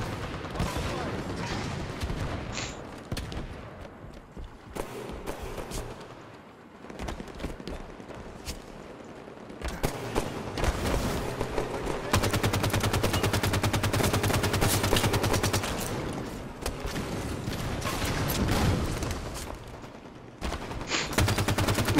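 Warthog vehicle gunfire in Halo 5: Guardians multiplayer, with bursts of rapid automatic fire coming and going over roughly twenty seconds, some stretches dense and sustained, mixed with other game noise.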